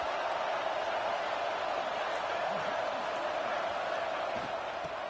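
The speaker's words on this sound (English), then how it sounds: "this home crowd is fired up and ready to make a difference today" Continuous crowd roar from a home stadium audience in the College Football 26 video game, a steady dense wash of cheering that stays loud and even throughout.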